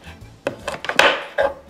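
A knife chops food into small pieces on a board while preparing Peruvian tallarín saltado with shrimp and pork, giving a handful of sharp, close knocks spaced irregularly across a short quiet stretch.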